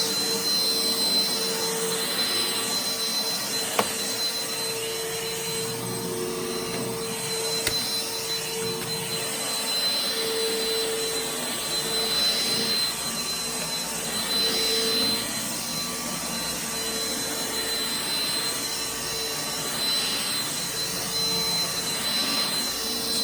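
Upright vacuum cleaner grooming a carpet runs as a steady, loud motor whine and airflow roar with a high tone, continuous throughout with slight rhythmic surges from the push strokes, close and without talk.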